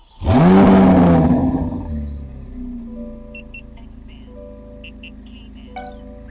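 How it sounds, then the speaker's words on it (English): A Chevrolet Corvette C8 Z06 engine cranks and fires with a loud, sharp roar, then drops into a steady, lower idle, with a short beep near the end. "Ross, fire up my Z06 for me so we can hear this thing at idle."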